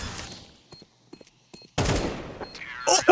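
Gunfire from a tense one-on-one round in a Counter-Strike tournament semi-final: a couple of sharp shots ring out briefly, then a loud, dense burst of game action and noise swells and carries on to the end.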